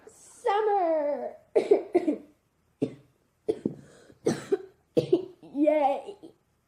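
A person coughs in a string of separate bursts, some harsh and some shorter, close to the microphone with brief silences between them.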